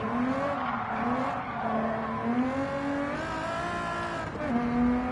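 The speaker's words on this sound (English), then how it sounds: "Yeah, the tyres squealing." Hot racing tyres squeal hard under heavy braking on a race car, a loud continuous wailing screech with wavering pitch that holds for the full stretch, engine noise underneath.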